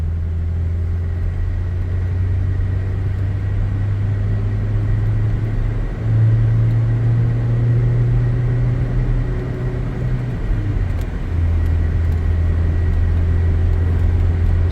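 Toyota Innova Reborn petrol engine idling then revving, a steady low rumble that rises in pitch around the middle before settling back, close and continuous with no talk.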